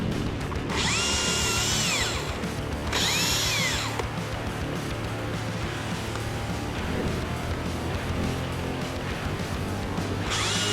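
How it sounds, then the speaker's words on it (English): A chainsaw with a sharp chain cutting through a tree trunk: a steady, loud motor drone with repeated high-pitched whining bursts as the chain bites, running continuously without talk. "As the blade makes contact with the tree trunk, the chain starts slicing through, sending sawdust flying."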